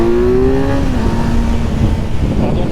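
Derestricted Kawasaki Z900 motorcycle accelerates hard, loud and close, its engine note climbing through a gear, then carrying on with a rough, steady roar.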